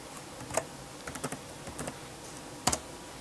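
Short bursts of keystrokes on a computer keyboard while renaming a file, a few quick clicks near the start, a cluster in the middle and a sharper pair at the end, close and fairly quiet with no talking.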